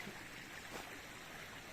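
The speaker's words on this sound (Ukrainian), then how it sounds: "сьогоднішню подорож розпочинаємо біля такого мальовничого струмочка" A small babbling stream flows outdoors in spring, a continuous close wash of running water with a steady, even texture and no voices.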